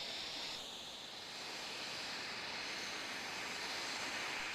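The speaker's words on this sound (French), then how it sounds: "Moteur démarré." Mirage IV jet engine running steadily after start-up on the ground, a continuous broad roaring whoosh with a high whine, constant and fairly distant, with no talk.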